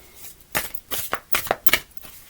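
New deck of tarot cards shuffled by hand, with five or six quick, crisp riffling bursts close up, fairly quiet, with short pauses between them.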